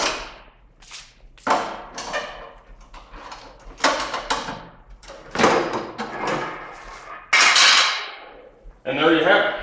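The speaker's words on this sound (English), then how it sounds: "Got the big 1/2-inch ratchet on there." A large 1/2-inch ratchet snugs the rear shock adjuster bolts on a 2013 STG project bike fitted with an Ohlins TTX shock: loud metallic clacks, clicks and thuds arrive in irregular bursts, close up, with no talking.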